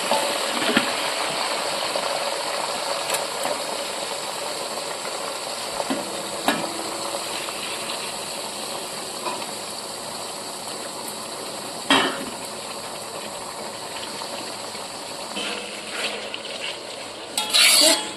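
Neem leaves frying in hot oil for homemade hair oil, a steady broadband sizzle with occasional sharp scrapes and clinks of a spoon stirring in the pot, no talking.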